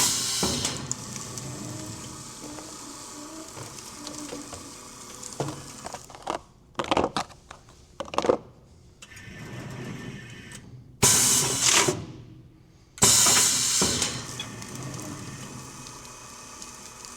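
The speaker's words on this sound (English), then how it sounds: "I'm going to show you how the machine works in the auto mode." Promarksvac VT-109 extra large automatic tray sealing machine cycling in auto mode: steady mechanical whirring with repeated sharp hissing and pressing bursts as trays are fed in and sealed, close and fairly loud, no talk.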